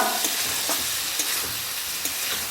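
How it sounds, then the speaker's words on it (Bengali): Spice paste with salt sizzles in a pan for vegetarian cabbage dhoka curry, a dense continuous fry broken by soft periodic stirring scrapes, close up with no voices. "মশলাটা অবশ্যই খুব ভালো করে কষিয়ে নেবেন"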